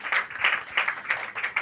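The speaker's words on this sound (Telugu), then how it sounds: "చప్పట్లు కొట్టండి." A congregation claps on request during a church sermon, with a burst of hand claps swelling and fading in uneven rhythmic waves, fairly close and lively, with no voices over it.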